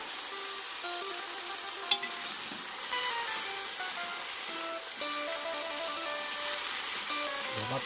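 Cooking sake poured into a hot frying pan while making ozoni, a steady bright sizzle with crackling pops and a sharp clink near the start, continuing without speech.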